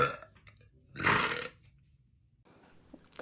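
A girl lets out a loud, drawn-out burp in the middle, with fainter throaty noises before it and a short rasp at the end, close up and with no talking.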